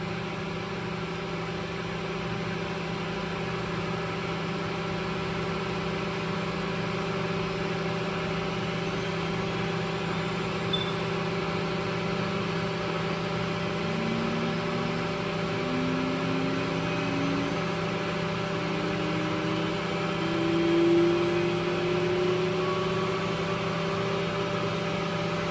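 A seal test stand spindle spins up toward 30,000 RPM, giving off a steady high-speed whine layered over a motor drone, with thin tones slowly sliding upward and no voices.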